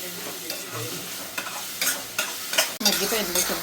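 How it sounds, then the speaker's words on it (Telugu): Ginger garlic paste fries in a hot pan, a steady sizzle broken by several scraping stirs of a spoon, close and fairly loud, with no talking. "ఈ అల్లం వెల్లుల్లిపాయ పేస్ట్ కూడా పచ్చివాసన పోయే వరకు ఫ్రై చేసుకోవాలి"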